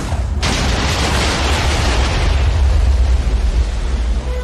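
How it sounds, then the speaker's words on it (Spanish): A giant block of TNT detonates in Minecraft, a sudden loud boom that swells into a long roaring rumble lasting several seconds. "¿Por qué demonios tenemos una TNT gigante?"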